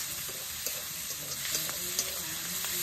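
Ginger garlic paste frying in a pan, a steady hiss of sizzling oil broken by soft scrapes and taps as it is stirred, close up and alone without voices.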